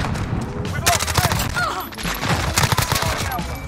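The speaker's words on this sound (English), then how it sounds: "We're using this this MP5, man. The subsonic suppressor." Suppressed MP5 gunfire with a subsonic suppressor in a video game, heard as rapid bursts of muffled shots in quick succession alongside game effects, with a voice talking over parts of it.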